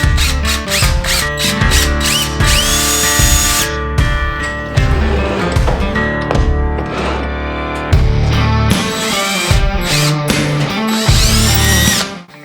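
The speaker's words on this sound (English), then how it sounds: "Just gonna drill some pound holes." A power drill whines loudly and continuously while drilling holes, its pitch rising and falling as it bites into material, with a brief pause in the middle.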